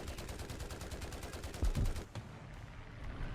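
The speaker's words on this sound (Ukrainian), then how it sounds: "По біпланчику постріляємо трохи." Rapid bursts of War Thunder machine gun fire aimed at a biplane, a fast steady rattle that briefly swells louder, then fades into scattered shots.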